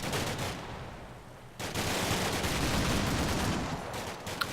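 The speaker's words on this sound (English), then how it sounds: "Lots of shooting." Gunfire rages in the wargame Combat Mission: Black Sea during a Russian–Ukrainian firefight, a sustained wash of overlapping rifle and machine-gun bursts that dips briefly, then swells into an unbroken, loud roar.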